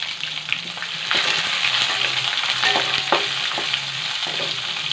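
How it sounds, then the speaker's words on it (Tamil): Three large onions with curry leaves sautéing in a hot pan for roadside-style mushroom gravy, a steady loud sizzle with repeated scraping stir strokes throughout, no talking. "ஒரு 2 நிமிஷம் இந்த வெங்காயத்தை நல்லா வதக்கிக்கோங்க."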